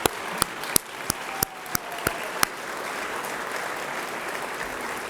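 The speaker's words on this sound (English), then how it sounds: "let's just give Doterra a round of applause for making it here today" An audience in a room at Utah Valley University applauds doTERRA, opening with several sharp, spaced single claps before settling into a steady spread of crowd applause.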